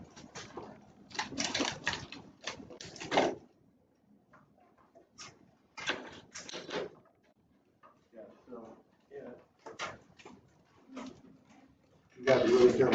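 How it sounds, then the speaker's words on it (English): Keyboard typing comes in short bursts of quick clicking keystrokes, separated by quiet pauses, fairly close and moderately loud, with a little speech mixed in. "Let me see if I can type this up for you."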